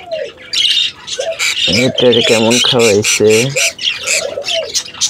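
Bird chicks squawk loudly and repeatedly while being handled and checked, their harsh rhythmic calls close by and overlapping with someone talking throughout.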